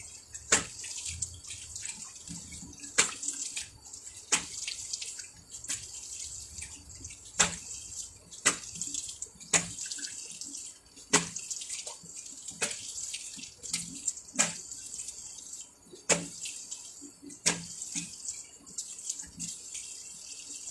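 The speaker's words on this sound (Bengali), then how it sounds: "ওকে, আমি এখন মুখটা ধুয়ে ফেলছি।" Tap water running into a sink while a face is washed, a steady faint stream broken by repeated sharp splashes as hands scoop and slap water, close and without talk.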